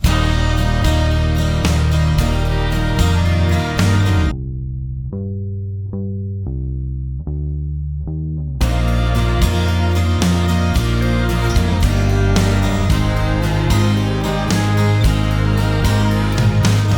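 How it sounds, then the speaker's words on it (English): A short-scale bass guitar plays a slow, mellow groove of round low notes, with a stretch where other instruments drop out and the bass carries alone. "I pick up this bass and it sounds like this."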